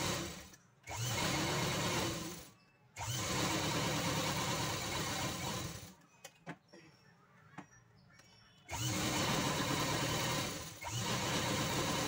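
Sewing machine stitching the lining onto a saree sleeve, running in several long motorised bursts separated by short pauses with faint handling clicks, fairly quiet and close.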